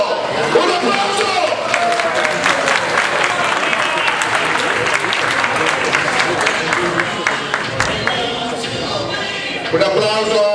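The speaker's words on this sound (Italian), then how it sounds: "Cecchetto Riccardo, un applauso!" A large audience at a boxing event in San Giovanni Lupatoto breaks into sustained, loud applause, dense clapping filling the whole stretch with crowd chatter and a few cheers mixed in.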